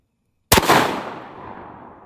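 A single loud gunshot from a 45-70 double barrel rifle fired outdoors, a sharp sudden crack after silence that rolls off into a long fading echo.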